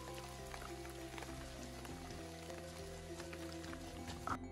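Light drizzle falling at a traditional Tengger village, a faint steady patter of fine raindrops with a low background hum and no voices.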